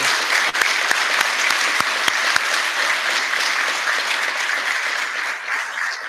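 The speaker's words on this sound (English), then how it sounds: "please join me in a round of applause for the Mississippi Executive Fire Officer Program" An audience at a graduation ceremony for the Mississippi Executive Fire Officer Program bursts into sustained, steady applause, dense and close, with a few sharp individual claps standing out early on.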